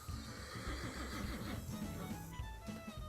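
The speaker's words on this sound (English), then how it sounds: "These horses sure are noisy." Horses in a Nancy Drew ranch mystery game whinny and neigh loudly over a busy game soundscape, one call after another across a few seconds, with no talking.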